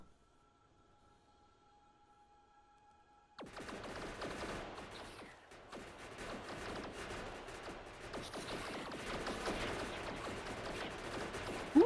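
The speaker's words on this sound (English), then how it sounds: "Grenades." Grenades going off in the factory-building game Factorio: after a quiet hum, a sudden burst of dense, crackling blasts and rattling detonations rolls on continuously and grows slightly louder, with one sharper bang at the end.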